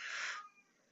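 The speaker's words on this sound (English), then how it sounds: "I hear one of the cats." A house cat gives a loud, drawn-out meow lasting under half a second, then fades to a faint, quiet tail, heard indoors with no talking over it.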